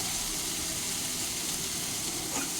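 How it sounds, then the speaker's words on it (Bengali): Foraged wild greens with salt and turmeric fry in a pan while being stirred, giving a steady, close sizzle with faint scraping, unbroken and without talking. "এবার এটাকে আমি ভালো করে নেড়ে ফেড়ে দিচ্ছি যাতে আমার এই সমস্ত সবজিগুলো ভালোভাবে ভাজা হয়"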